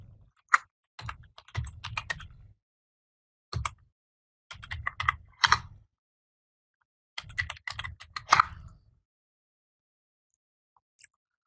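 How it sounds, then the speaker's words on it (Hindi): Keys clatter on a computer keyboard in several quick bursts of typing with short pauses between them, close and clear with no talking. "मैं यहाँ पे टाइप करता हूँ"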